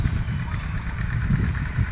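A walk-behind tractor engine runs at a steady idle in a rice field, a low rumbling chug that stays constant and close for the whole stretch.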